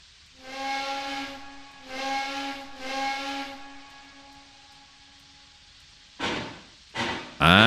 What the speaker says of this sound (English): Nah, that's just the steam train.